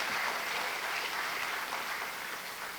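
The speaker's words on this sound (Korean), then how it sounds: "박수 한번 주십시오." Sustained applause from a seminar audience at a Rotary membership event, a dense steady wash of clapping that fills the whole stretch without talk.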